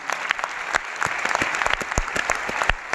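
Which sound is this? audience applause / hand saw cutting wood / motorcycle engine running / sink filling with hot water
audience applause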